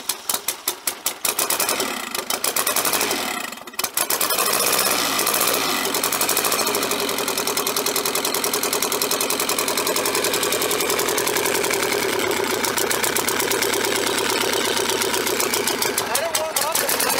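Turbocharged KA24E engine in a Nissan 240SX firing up after a few cranking bursts, then settling into a loud, steady, slightly lumpy idle, close by, with voices talking at times.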